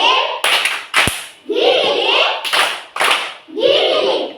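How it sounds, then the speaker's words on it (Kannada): Children perform the 'giligili' clap pattern, a named classroom routine: bursts of rhythmic hand clapping alternating with short sung or chanted children's voices, fairly close and loud, with one sharp thump near the start. "ಓಕೆ. ಗಿಲಿಗಿಲಿ ಚಪ್ಪಾಳೆ."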